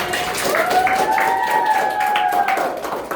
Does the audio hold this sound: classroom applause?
yes